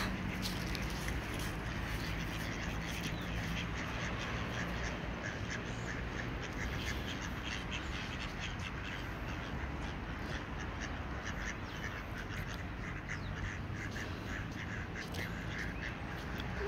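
Ducks quack at a small pond, the calls mixed into a dense, steady wash of outdoor noise that runs loud and continuous throughout.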